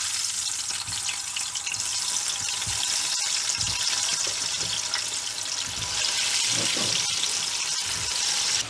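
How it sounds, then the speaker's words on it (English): Potato pieces deep frying in hot oil give a loud, dense, continuous sizzle and bubbling roar that holds steady throughout, with a few soft knocks underneath and no talking. "Now we're gonna deep fry all our cutted stuff. Potatoes first, only until half ready."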